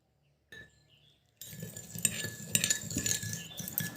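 A spoon stirs a creamy mixture of oil, sugar and about two spoonfuls of water in a bowl, giving soft clinks and scraping at a close, steady pace after a brief quiet start.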